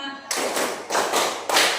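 Classroom group doing a counted clapping routine, with several distinct bursts of many hands clapping in unison, each a short dense slap followed by a brief pause, close and fairly loud.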